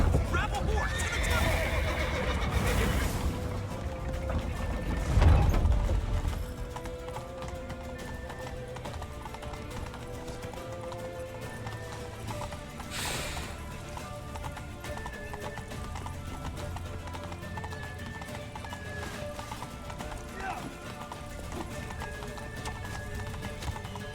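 Horses in The Witcher 3 video game: loud neighs and whinnies over rhythmic clip-clop of galloping hooves, with a character's voice shouting amid the action.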